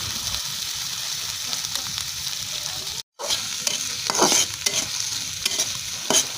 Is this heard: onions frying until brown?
yes